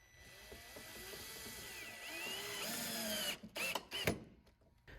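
Power drill briefly whirring as it drives screws through a vinyl and wood gate post while a hinge is attached, short rising bursts followed by a few sharp clicks and knocks, close and fairly quiet.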